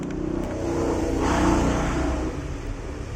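Roadside traffic beside a busy main road, with motorbike engines droning steadily and one passing louder near the middle before easing off.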